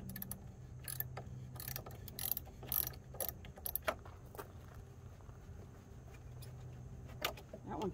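Battery terminal connectors are loosened on a dually truck, heard as a faint series of sharp ratcheting clicks and metallic taps in irregular bursts over a low mechanical background hum.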